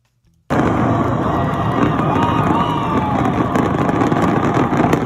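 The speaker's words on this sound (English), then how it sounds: "they did a flyover, and then watch these wayward fireworks." Wayward fireworks bursting over a football stadium after a flyover, heard as a dense, continuous roar of crackling blasts and crowd noise that stays loud and steady throughout after a brief silent start.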